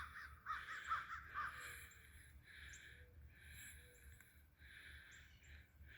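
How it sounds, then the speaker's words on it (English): A crow caws outdoors in a few harsh, repeated calls, faint and somewhat distant over low background rumble. "Sounds like a crow if I got my birds right."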